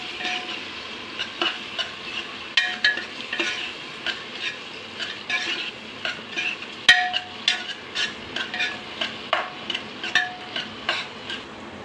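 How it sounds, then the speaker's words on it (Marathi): An onion and tomato mixture frying in oil is stirred with rhythmic scraping strokes over a steady, soft sizzle, close up and without talking. "आता हे मिश्रण आपण हलवून घेणार आहोत"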